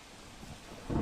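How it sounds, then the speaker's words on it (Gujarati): Monsoon rain falling in Vapi, South Gujarat, after a long dry spell: a steady, fairly quiet hiss with a low rumble that swells louder near the end. "વાપીના આ દ્રશ્ય છે કે જ્યાં વરસાદ વરસતા ખુશનુમા વાતાવરણ સર્જાયું છે"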